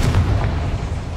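A heavy, booming blast from the Confringo explosive spell in Hogwarts Legacy fills the whole short moment, loud and close with a deep rumbling body.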